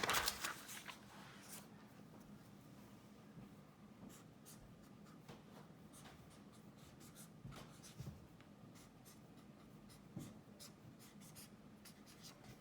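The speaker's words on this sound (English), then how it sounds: "I'll write the plus and then I'll write the minus." A pen or pencil writes out a math equation on paper, producing a quiet, continuous scratchy scrape broken by short tapping strokes, close up and alone for over twelve seconds.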